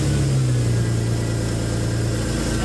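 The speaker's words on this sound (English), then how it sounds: "And it idles now." A Jeep TJ engine idles steadily after its hacked-up ignition wiring was sorted out, a low, even mechanical hum with faint rhythmic pulsing, close and continuous with no voices.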